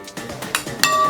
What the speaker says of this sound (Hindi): और अब इसको अच्छे तरीके से हम